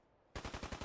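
Rapid burst of gunfire in Fallout 4 after a short quiet pause, about six sharp evenly spaced shots ringing out loud and close.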